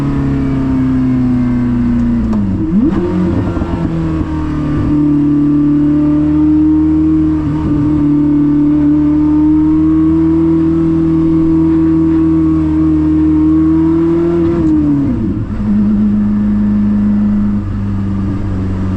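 A Koenigsegg CC850 engine drones loud and steady from inside the cabin, its pitch rising under acceleration, dipping sharply at shifts around three and fifteen seconds, then climbing again.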